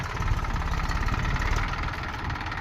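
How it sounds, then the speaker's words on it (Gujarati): A tractor engine idles in a farm field, a close, loud, steady low rumble with rhythmic chugging throughout and no talking. "ટ્રેક્ટર સ્પેશિયલ લાવવું પડ્યું છે"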